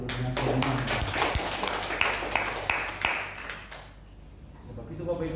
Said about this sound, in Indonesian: Beri tepuk tangan dulu dengan semangat.